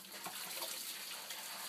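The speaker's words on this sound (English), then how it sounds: "So just run a little water on top." Water from a tap runs steadily over the filter media of a SUNSUN HW-304B aquarium canister filter during maintenance, a continuous close splashing hiss with no talk.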